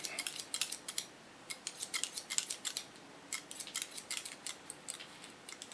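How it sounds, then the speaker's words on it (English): Scissors snip through a client's hair during a haircut, giving quick, crisp, close cuts in irregular clusters with no talk over them. "in the line of falling I cut her hair"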